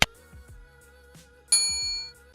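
A notification bell sound effect rings twice, each a bright metallic ding with a ringing tail, the second louder and longer, over soft low background tones.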